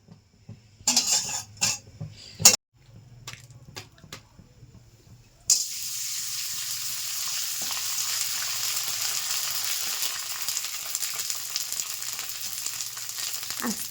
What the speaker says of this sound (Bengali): এবার ভাজবো সাবুর কুরকুরে।